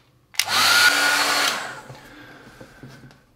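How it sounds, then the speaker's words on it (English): A hair dryer blows loudly for about a second over watercolour paper, then winds down to a quieter whir before fading, close by. "either you dry it thoroughly with a hairdryer"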